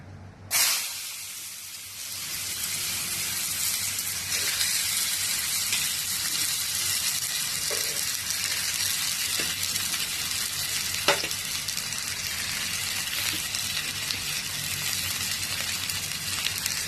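Potato and onion, cooked for chowmein-style Maggi, hit hot oil with a sudden loud hiss and then settle into a long, even sizzle marked by occasional sharp pops and spatula clicks.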